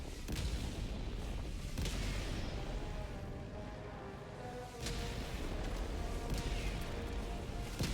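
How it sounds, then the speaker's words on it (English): Orbital barrage striking in Helldivers, a dense, continuous roll of heavy explosions and booms, with several sharper blasts standing out from the sustained rumble. "Firing orbital barrage."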